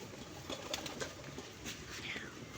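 Pigeons near the feeding spot give soft coos and light fluttering sounds as one lands, faint and close, with a low murmur of background noise.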